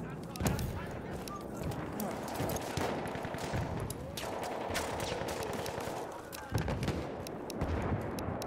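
Battlefield 1 multiplayer gunfire crackles in rapid bursts and scattered shots amid dense, busy battlefield noise, mixed at a moderate level with constant background chatter and effects.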